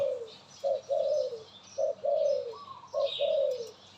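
A dove coos nearby in repeated phrases, each a short note followed by a longer rolling coo, three clear calls in steady rhythm over faint background chirps.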